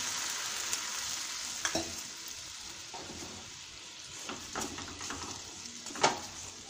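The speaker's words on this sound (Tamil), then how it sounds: "இப்போ வெல்லத்தை நல்லா கரைச்சி எடுத்துக்கலாம்" Jaggery dissolving in water in a kadai is stirred with soft scraping and light bubbling sizzle, a few sharper ladle knocks against the pan punctuating a steady low simmer, close by with no talk.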